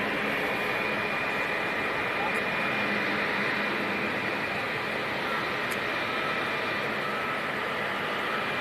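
A Helvetic Embraer E195-E2 jet at London City Airport, a steady broadband engine roar that holds constant throughout, heard at a distance outdoors.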